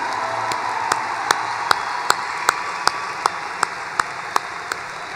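Sustained applause and cheering fill a hall at a university undergraduate commencement ceremony. The crowd noise stays steady, and evenly spaced sharp ticks run through it.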